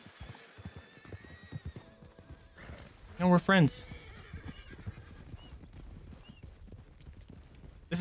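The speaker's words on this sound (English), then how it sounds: "Horses! Wild horses." Wild horses in Red Dead Redemption 2 give a loud, shrill whinny over a steady patter of hooves clip-clopping nearby, with a brief remark spoken over the scene.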